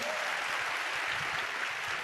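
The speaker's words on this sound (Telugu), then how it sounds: "గట్టిగా చప్పట్లు కొడుతూ స్తోత్రాలు చెప్తా" A church congregation claps loudly in a steady, continuous wash of applause during a Telugu worship service, with no pause.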